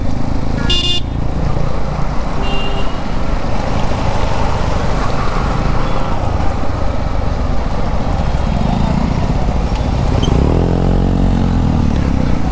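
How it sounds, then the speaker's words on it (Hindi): Loud, continuous rumble of a Bajaj Pulsar NS 125 motorcycle exhaust running nearby, with a short horn toot early and a rising engine sweep near the end. "NS 125 में तो क्या ही आवाज़ आएगी एग्जॉस्ट की, बहुत कम आती होगी।"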